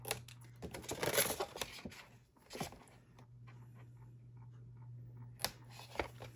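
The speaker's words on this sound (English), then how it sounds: "I'll just take my scissors instead of fighting with it, and I'll just kind of angle it off." A few quiet, crisp snips of scissors cutting through paper, close by, with soft rustling between cuts and no talking.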